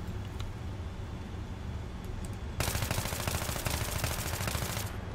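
Rapid automatic AEK-971 assault rifle fire in Battlefield 3, a sustained loud burst starting partway through after a quieter stretch of background game ambience.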